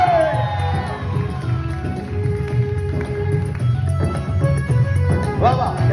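A crowd claps and cheers for Dr Abhijit Shinde at a Lok Rang Sandhya stage event, with whoops and shouts rising over steady applause and a hum of voices in the background.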